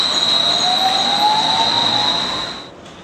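A streetcar's steel wheels rolling on steel rails, a loud steady rumble with a sustained high squeal running throughout, then fading near the end as it passes.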